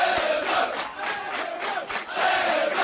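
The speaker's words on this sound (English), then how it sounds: "Crowd picking up the noise again in anticipation." Steady, loud crowd noise from spectators at a U19 schoolboy water polo match between Bishops and Rondebosch, swelling in waves with shouts and cheering building in anticipation of play restarting.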